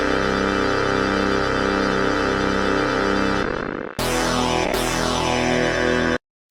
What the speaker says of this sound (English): And that was accompanied by this synth bass.